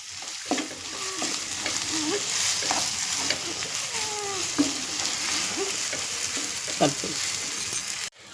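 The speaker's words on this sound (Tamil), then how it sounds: "சக்கரை போட்டு நல்லா கிண்டிகிட்டே இருங்க" Spoon stirring and scraping through carrot halwa cooking with sugar and ghee in a pan, under a constant soft sizzle, with repeated clinks and scrapes against the pan.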